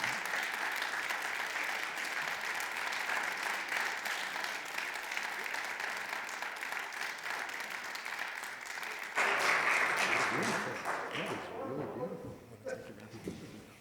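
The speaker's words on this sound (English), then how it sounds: "we get a big round of applause and invite Mark Klee up to accept his award tonight" An audience at a gala dinner gives a long, steady round of applause for an award recipient stepping up to accept. The dense clapping fills the room for about fourteen seconds and swells briefly near the end before tapering off.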